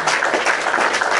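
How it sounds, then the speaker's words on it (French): Applause from a live audience during a Gabonese political commentary broadcast in Libreville, a steady dense wash of clapping lasting just over a second with no voices over it. "On applaudit."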